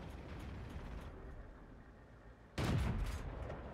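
A sudden loud burst of tank gunfire in World of Tanks cuts in over a steady low rumbling background, sounding close and heavy.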